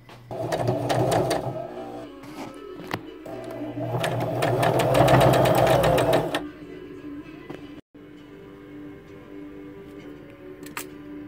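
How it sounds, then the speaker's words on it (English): A sewing machine sews felt in fast mechanical bursts, stopping and starting, then falls quiet with a few faint clicks and handling sounds near the end. "when we go to the sewing machine"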